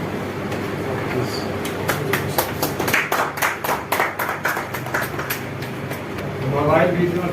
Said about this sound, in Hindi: आप तालियों से अभिनंदन करें।